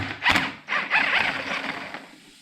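A Snap-on impact wrench removes a 17mm nut on a CR250 motorcycle, giving a sharp hit and then a rattling, ratcheting burst that trails off over a couple of seconds, close and loud.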